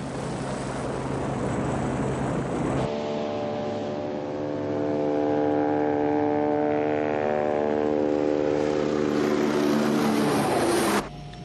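Aircraft engine noise from a helicopter in an emergency near a warship at sea, a steady loud drone with strong humming tones that swells midway and cuts off abruptly near the end; no voices.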